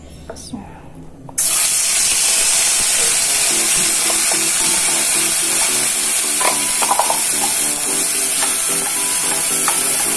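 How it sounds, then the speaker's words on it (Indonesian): Spice paste sautéing in hot oil for Betawi-style opor ayam, a steady close sizzle and hiss that starts abruptly after a brief quiet moment and runs on, with faint stirring clicks. "Ini kita tumis sampai benar-benar harum."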